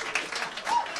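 Brief scattered applause from a live comedy podcast audience, a soft patter of clapping heard at a moderate distance for about a second.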